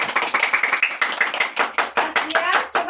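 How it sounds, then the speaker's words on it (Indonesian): Schoolchildren in a classroom clapping for a classmate, a fast run of fairly loud, close hand claps in an uneven rhythm with some voices mixed in. "Tepuk tangan dulu buat Zahra."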